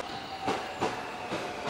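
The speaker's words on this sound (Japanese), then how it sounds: "新快速の電車があちらの方にやってきました。" A Shinkaisoku rapid train pulls into a Japanese station at night, its wagons rumbling past with soft rhythmic clatter over a steady rail hum.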